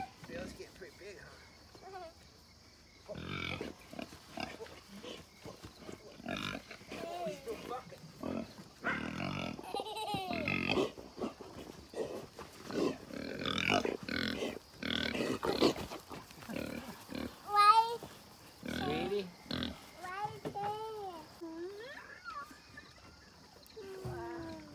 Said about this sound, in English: So we have Idaho pasture pigs, which are bigger than a Cooney Cooney and yet smaller than a conventional pig